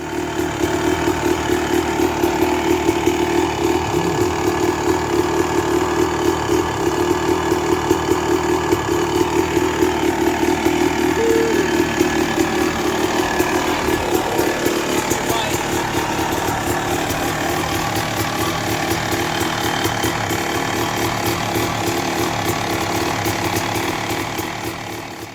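A 1996 Suzuki motocross bike with an FMF exhaust idles steadily and close by, its even, throbbing two-stroke note holding at the same level throughout.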